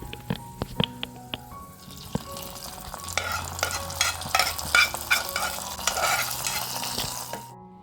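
Fried cashews and raisins tipped into rice payasam and stirred: a few sharp clinks and drips, then a steady close sizzle with scraping stirring strokes, alone.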